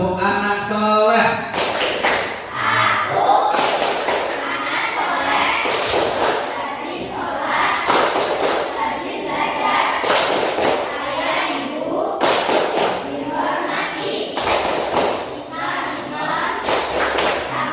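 Children clapping out the tepuk anak soleh chant, sharp bursts of group claps in a repeated pattern roughly every two seconds, mixed with young voices chanting and an adult speaking between rounds.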